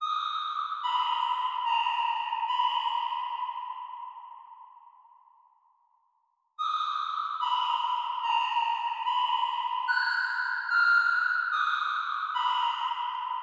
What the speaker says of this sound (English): Then on the counter melody I added this preset from Raum,